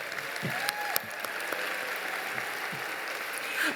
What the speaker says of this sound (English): Can I get a round of applause for the many professionals who made tonight possible?